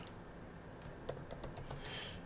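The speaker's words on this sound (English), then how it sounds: "typing in Synapse" Quiet typing on a computer keyboard, a short run of soft, irregular key clicks over faint background hiss.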